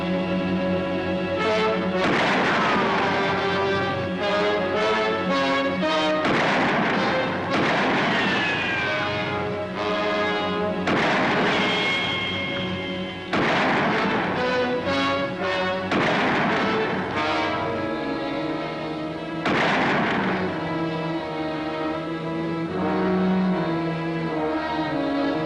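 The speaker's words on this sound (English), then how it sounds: "maybe I can scare him off with a few wild shots" Gunshots ring out in a western TV show, several sharp cracks scattered across a loud soundtrack of dramatic orchestral music that runs continuously underneath.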